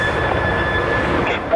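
BNSF freight train rolling past at Ashland and Greenwood, Nebraska, a loud, steady rumble of wheels and cars with a sustained high metallic whine running throughout.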